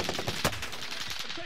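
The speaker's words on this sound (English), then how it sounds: "I'm taking fire." Rapid automatic gunfire in the video game Call of Duty Vanguard, a dense burst of close, loud shots with one sharper crack partway through.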